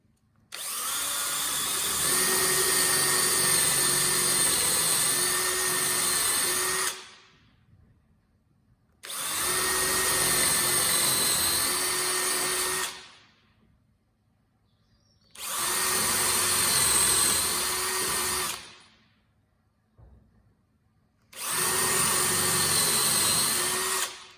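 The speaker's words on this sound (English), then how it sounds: "Then I'm going to use a hand drill, and we're going to just drill the corner of each of the boxes on the box." Hand drill boring into the corners of a pine night light box, in four loud sustained bursts of whining motor and bit noise separated by short pauses.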